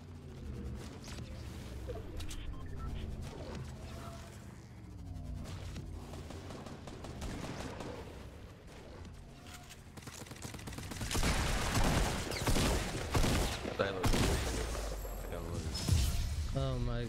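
Rapid, overlapping gunfire from a Fortnite battle royale match, including sniper rifle shots, loud and dense throughout with sharp bursts, under continuous excited talk from players.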